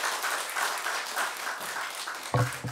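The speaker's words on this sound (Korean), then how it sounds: "여러분이 큰 박수로 환영하면 좋겠습니다" A church congregation claps to welcome a pastor to the stage, a moderate, even patter of applause that fades before a voice begins speaking near the end.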